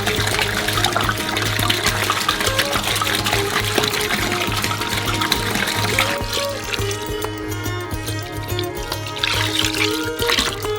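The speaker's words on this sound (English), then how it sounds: "pour in the remaining water." Remaining water poured into a basin of stirred cocoa mixture while making giant DIY Skittles, a steady continuous splashing and trickling that runs throughout at a fairly loud, close level, easing slightly toward the end.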